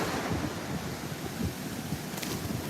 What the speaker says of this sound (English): sometimes all you really need is just to be at the beach. Just to watch the waves.